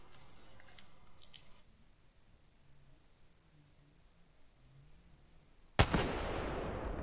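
A single sharp gunshot cracks loudly after several seconds of near silence in an Apex Legends match, followed by a brief decaying tail.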